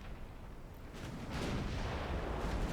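Warship guns fire in the World of Warships naval game, a dreadnought in a Japanese campaign, as dull booming rumbles that swell and linger under steady low battle noise, growing louder after the first second.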